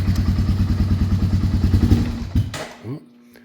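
A Honda 300 ATV engine running without choke, chugging loudly and unevenly up close before stumbling and cutting out, with a clank and a short whine as it dies.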